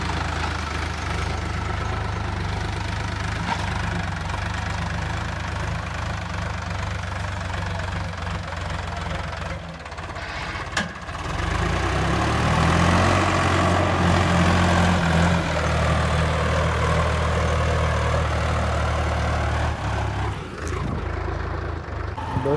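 A mini tractor fitted with a 9-tine cultivator idles outdoors, a loud, close, steady knocking diesel rumble that swells briefly midway as the engine revs slightly, then settles back to idle.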